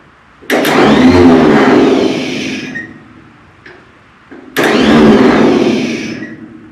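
A Minneapolis Moline tractor engine with a bad electrical connection cranks loudly for about two seconds, goes quiet, then cranks again in a second long grinding attempt without catching.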